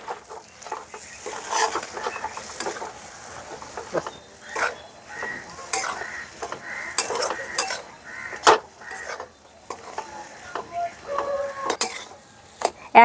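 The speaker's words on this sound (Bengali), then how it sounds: "এক চামচ ঘি দেওয়ার পরেও একটু নাড়াচাড়া করে মিশিয়ে নিয়েছি।" Semolina halwa cooked with ghee is stirred in a pan, giving intermittent scraping and clinking of a spoon against metal with faint sizzling, in uneven bursts close by.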